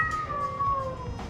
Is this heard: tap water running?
no